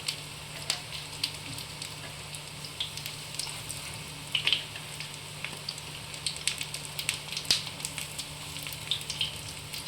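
Gram flour (besan) fritters frying in hot oil in a home kitchen: a steady close sizzle with frequent sharp crackles and pops, no talking.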